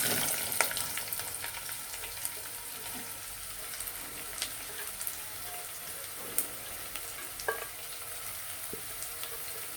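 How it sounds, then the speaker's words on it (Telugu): Onions frying in hot oil with curry leaves, a constant close, crackling sizzle with a few faint clicks of stirring, no voices. "తర్వాత ఉల్లిగడ్డ వేస్తున్నానండి"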